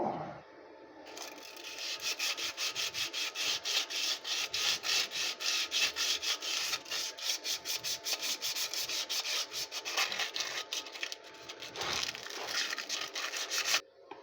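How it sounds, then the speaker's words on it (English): Sandpaper is rubbed back and forth across the face of a Suzuki motorcycle clutch in a fast, steady scratching rhythm, close and continuous for most of the clip with no talk. "I'm going to clean up this face of the clutch with a bit of sandpaper"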